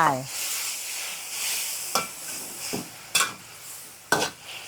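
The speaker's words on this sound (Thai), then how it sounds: "เดือดเสร็จแล้วเราใส่คะน้าเลยค่ะ" Kale goes into a pan of boiling liquid, giving a broad, bubbling hiss punctuated by several sharp clatters of utensil or lid against the pan.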